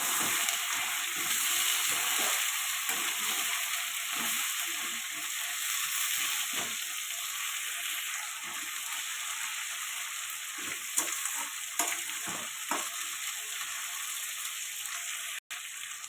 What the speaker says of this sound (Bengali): আলু দিয়ে দিলাম